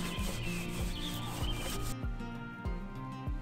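Rubbing strokes clean the roof of a Toyota 4Runner after the stock rack and mounting hardware come off, a steady series of close, rhythmic swipes with no talking.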